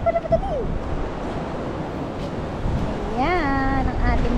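Ocean waves wash onto a beach in a steady, close roar of surf and wind noise, while people talk over it.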